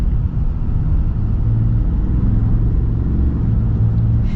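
A 2024 Ram 3500 Mega Cab diesel pickup with leaf springs and solid axles cruises at speed, giving a steady, loud low rumble of engine and road noise with a faint droning hum and no talking.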